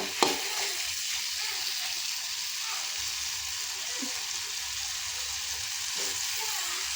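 Beans palya bubbles and sizzles in a covered pan, a steady close frying hiss with faint stirring clatter throughout.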